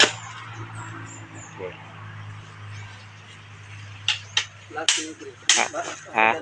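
Pounding while eradicating Moko disease from a banana plant: a handful of sharp, close thuds and knocks come in a cluster near the end, after a stretch of low hum and faint voices.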